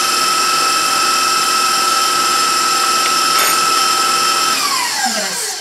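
Electric mixer beating low carb cheesecake batter, a loud, steady motor whine held close for several seconds, its pitch sliding downward as it winds down at the end.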